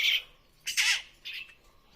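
A magpie squawks in three harsh, raspy bursts, close and fairly loud, separated by brief pauses against a quiet background.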